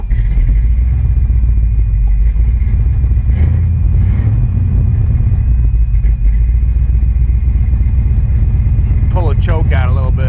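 Engine idling just under 1,000 RPM with the choke partly out, a loud, steady low rumble that flutters unevenly throughout, with a brief higher whine near the end.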